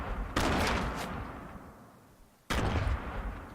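Two sudden explosive blasts from grenades in the video game Fortnite, the first decaying over about two seconds before a second sharp detonation, loud and close with no talk over them.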